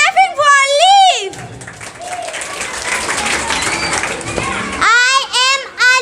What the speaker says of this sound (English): Clapping for leaf.